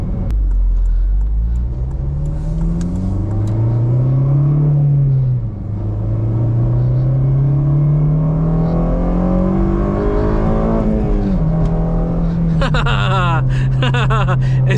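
An 8th-generation Honda Civic Si tuned with Hondata accelerates hard, the engine note climbing loudly through the gears with a dip at a shift and a sharper, higher VTEC wail toward the end, heard close from inside the car.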